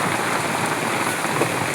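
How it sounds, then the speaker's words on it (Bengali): Heavy rain pours down in a steady, dense hiss, loud and unbroken, with no voices. "বৃষ্টি হচ্ছে অনেক জোরে।"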